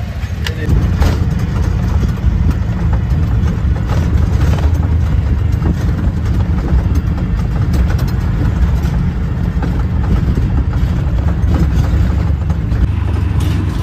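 Vehicles idle in a dense traffic jam on the way to the Kal Bhairav temple in Ujjain, a steady loud rumble of engines with scattered knocks and clatter throughout, no voices clearly above it.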